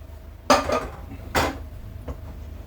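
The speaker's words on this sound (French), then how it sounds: "Et on mélange le tout." Macaroni in cheese sauce stirred in a pot, with two distinct metallic scrapes and clinks of a utensil against the pot, then a fainter third knock, each short and close.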